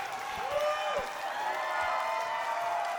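Wrestling crowd in Eugene, Oregon cheering and applauding steadily, a dense wash of claps and shouts with whistles rising over it, continuous and fairly loud throughout.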